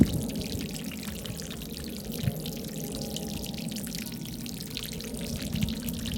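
A small solar-powered fountain splashes into a shallow pond bowl on a bright sunny day, giving a steady, close, pouring trickle of falling water throughout, with no talk.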